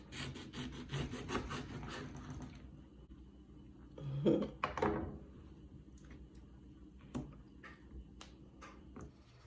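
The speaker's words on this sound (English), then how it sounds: "I'm just going to carefully slice my orange about 1 centimeter thick" A kitchen knife slices an orange into thick rounds, with soft rubbing cuts against a board at first, then a few quiet knocks and scrapes in a hushed kitchen.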